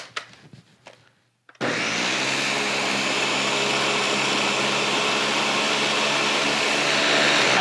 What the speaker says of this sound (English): Cut up your fruit, add this to a blender